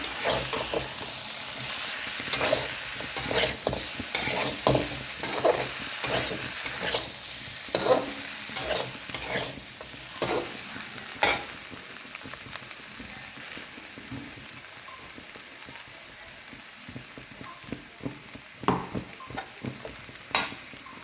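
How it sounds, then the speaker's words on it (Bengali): Vegetables for Bengali shukto frying in a pan as ginger-cumin paste is stirred in: a steady sizzle with frequent rhythmic scrapes and knocks of the spatula, close and moderately loud, with no voices. "এই আদা জিরে বাটাটা দিয়ে দিচ্ছি"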